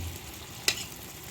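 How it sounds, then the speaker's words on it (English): Egg frying in a pan with methi herbs for a South African Indian dish, a soft steady sizzle with one brief sharp crackle or tap near the middle. "So now let my egg fry nicely here."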